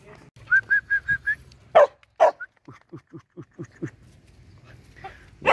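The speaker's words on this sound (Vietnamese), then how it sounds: "chó con này" A hunting-breed puppy yelps in a rapid series of short high cries, followed by a run of evenly spaced lower whimpers and a few louder barks, close and clear with no talk.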